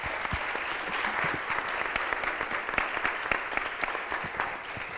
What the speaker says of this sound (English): I will ask for you a huge applause for these amazing speakers